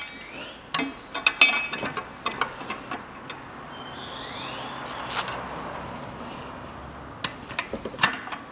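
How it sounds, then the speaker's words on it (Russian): Ratchet clicks while a camshaft bolt is tightened on a 2011 Daewoo Matiz 0.8 manual engine, a series of short metallic ticks in irregular bursts over a faint background hiss. "затягиваю болт распредвала"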